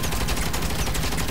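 Turret in Saints Row fires a continuous rapid stream of loud, dense shots, a short unbroken burst with no pause.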